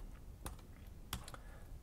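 Typing on a computer keyboard while entering a web address, a few quiet, sparse key clicks with pauses between them and no talking.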